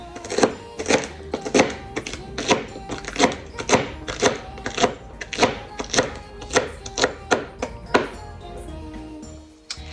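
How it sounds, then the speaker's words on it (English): A knife chops raw okra on a cutting board in a steady rhythm of sharp, close thunks, around two dozen strikes over several seconds, stopping at the end, with no talk. "So this is actually your okra. Go ahead, slice. Chop it."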